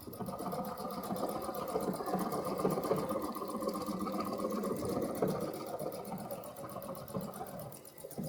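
A Baby Lock Solaris embroidery machine stitches out a design with a steady, fast mechanical whir and rapid needle rhythm, moderately quiet and continuous with no talking.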